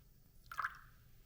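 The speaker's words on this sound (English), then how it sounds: "I'm going to add that last 25 grams of water right here" A small measured splash of water, about 25 grams, poured into a sourdough bread mixture, heard as a brief soft squishy drip lasting under a second against a quiet background.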